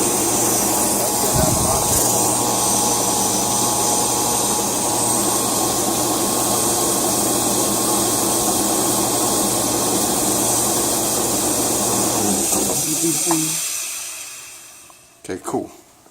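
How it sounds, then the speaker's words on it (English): An air compressor motor runs with a steady loud drone and hiss for most of the clip, then winds down and stops, followed by a few faint knocks. "now that I got the motor running"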